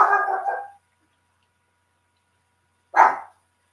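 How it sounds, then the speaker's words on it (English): A dog barks at its own reflection in a sliding glass door indoors: a short burst of close, loud barking, then silence, then one more sharp bark. "That dog's an idiot."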